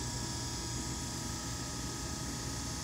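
Small bullet-style electric motor fitted with new bearings spins up and runs steadily, a loud, continuous whirring hum with a fine rattling, ratchet-like texture, heard close and alone without talk.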